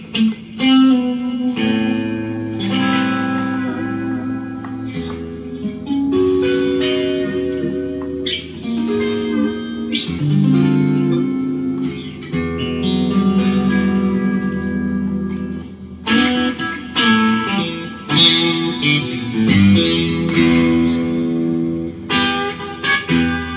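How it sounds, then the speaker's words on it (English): Electric guitar, a Stratocaster through an Earthquaker Devices Afterneath reverb pedal, playing chords and single notes with a lush reverb tail washing behind each strum, loud and sustained with short pauses. "let's add a little reverb. This is the Earthquaker Devices Afternate Reverb."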